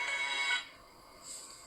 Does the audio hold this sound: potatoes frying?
no